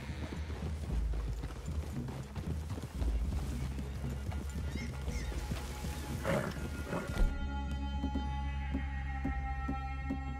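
Horse hooves clip-clop steadily in Red Dead Redemption II, a continuous rhythmic trot with a whinny and low ambient game hum underneath, with a brief shift in the background near the end.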